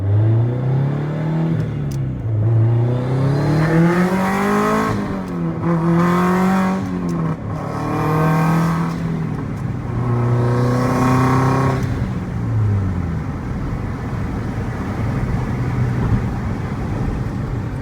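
A modified, turbocharged 2004 Subaru STI revs hard, pitch climbing and dropping repeatedly as it accelerates through several gears at peak boost, loud and close, with a steady rumble and no talking.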